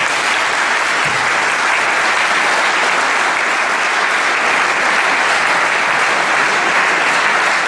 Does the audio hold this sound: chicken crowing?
no